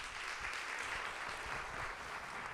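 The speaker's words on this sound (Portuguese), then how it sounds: "Maravilhoso. Palmas." Audience applause at a panel session on ESG and the creative economy, a steady wash of clapping from a crowd held at an even level for a couple of seconds with no talking over it.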